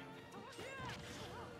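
Down smash attack in Super Smash Bros during a Hero versus Hero match, a sharp crashing hit with whooshing game effects, under a commentator's voice.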